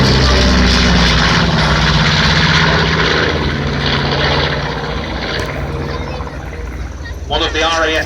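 A B-25 Mitchell bomber's piston propeller engines drone loudly and continuously at the Shoreham Airshow, a broad steady roar that eases slightly toward the end, with commentary talk over it.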